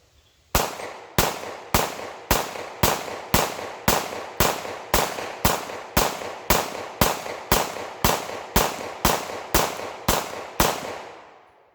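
Rapid string of loud gunshots from a Glock pistol fed by a Pro Mag 50-round drum magazine, about twenty evenly paced shots at roughly two per second, each sharp crack ringing briefly before the next, with no talking.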